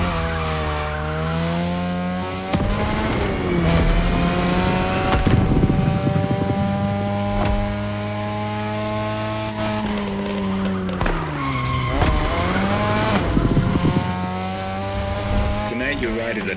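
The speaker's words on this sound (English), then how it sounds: "Your ride is a 3rd Gen 2002 Mazda RX-7. Lightweight, compact, a sick rotary engine" A third-generation 2002 Mazda RX-7 with a rotary engine races in the video game The Crew Motorfest, its high buzzing engine note climbing and dropping through gear changes, with repeated tire squeals and skids.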